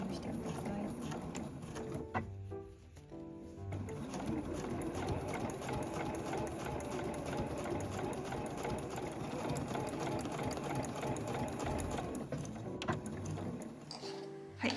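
A home sewing machine stitches heavy canvas for a zippered two-way tote bag, with steady rapid needle clatter running almost unbroken. A brief pause comes near the start and it stops at the end. A faint voice is heard under it.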